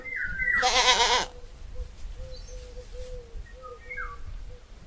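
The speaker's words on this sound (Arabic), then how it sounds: "ماعز." A single goat lets out one loud, quavering bleat at the start, followed by faint bird calls and soft farmyard background noise.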